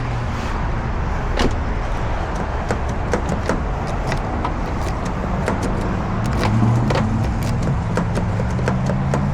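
Exterior door handle on a 2007–2011 Nissan Versa being tested after replacement, with repeated sharp clicks and latch clacks alongside jingling keys, close and fairly loud over low engine-like rumble.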